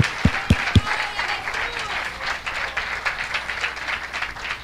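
A church congregation breaks into applause during a sermon, a few sharp near claps at the start giving way to sustained crowd clapping with voices mixed in underneath.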